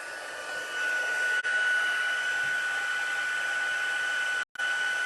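Heat embossing tool blowing hot air for card stamping, a steady loud whooshing hiss running almost continuously, briefly cut off twice.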